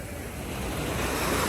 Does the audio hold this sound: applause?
no